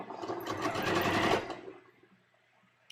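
A sewing machine stitches the neckline of a bias-cut V-neck dress, a close rapid mechanical whir for about a second and a half that then stops, leaving quiet room sound.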